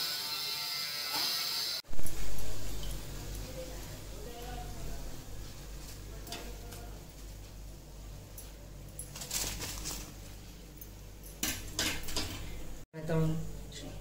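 Fried fresh coconut karanji lifted from a pan of hot oil, with metal utensil clinks and scraping against the pan, sizzling underneath, and someone talking over the kitchen sounds.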